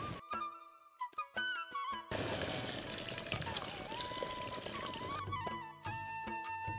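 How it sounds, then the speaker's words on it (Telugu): Water pours into a simmering chayote and coconut curry for about three seconds, a close, steady gushing splash set between stretches of background music. "ఇప్పుడు ఏం చేయాలంటే దీంట్లో కాసిన నీళ్లు పోసుకోవాలి"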